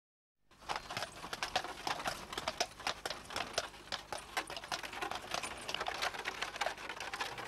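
Clydesdale horse hooves clip-clopping steadily while pulling a peat cart, a dense run of sharp, close knocks continuing through the whole stretch with no talk.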